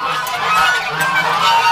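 Geese honk repeatedly at close range as a flock of ducks and geese is let out of their pen on a January morning, loud overlapping nasal calls in an irregular chorus.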